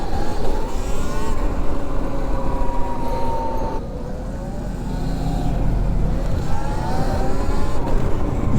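Sur-Ron electric dirt bikes fitted with an exhaust pipe, ridden on a Friday night group ride in Seattle, give a loud, continuous motor drone with rising and falling pitch sweeps and brief revs, close by.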